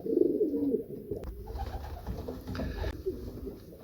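Pigeons coo softly in a loft in a low, rolling rhythm, several calls close by, with faint rustling and shuffling between them.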